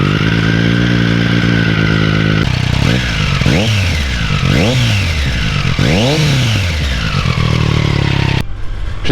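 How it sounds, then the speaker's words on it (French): A 2020 Triumph Street Triple RS motorcycle fitted with an SC Project exhaust revs hard several times in quick succession, each blip rising and falling sharply over a loud raspy idle, very close and alone. "je vais vous faire goûter le bruit vite fait du silencieux pendant qu'il n'y a personne"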